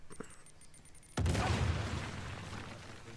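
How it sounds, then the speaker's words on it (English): Explosion in the action game Uncharted: The Lost Legacy, a sudden loud blast that breaks a quiet moment and trails off into a long rumbling decay. "we heard an explosion"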